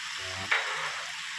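Red chili is stir-fried with crispy fried catfish, a steady close sizzle with one brief scrape of a utensil through the pan partway through.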